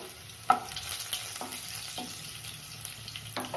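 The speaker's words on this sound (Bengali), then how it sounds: "আর পেঁয়াজগুলো এবার দিয়ে দিচ্ছি।" Onions go into a pan of hot oil with minced garlic and fry in a constant crackling sizzle, broken by several sharp stirring knocks and scrapes, with no one talking.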